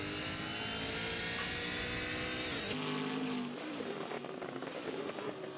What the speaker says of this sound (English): This is the VL Commodore.